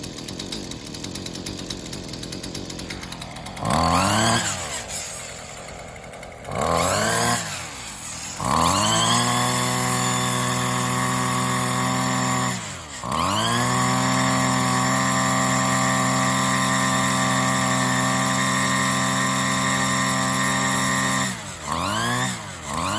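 A Husqvarna 128LD string trimmer's two-stroke engine idles with a rough buzz, then revs hard to a high whine several times, dropping back between bursts, loud and close with no talk.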